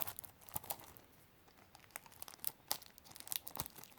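A sticker peeled off a Miitopia Nintendo Switch game case, close and quiet, with irregular crinkling and short tearing snaps across the clip.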